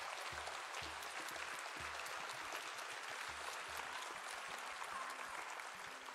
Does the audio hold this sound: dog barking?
no